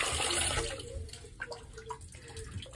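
Running water from a tap filling a bath for a first swim, a broad hiss that is loudest at first and then thins to lighter splashes and trickles.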